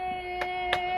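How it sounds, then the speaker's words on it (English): Two sharp hand claps ring out about a third of a second apart, fairly close, with a faint background hum and no speech. "Gustav, you can clap better than that."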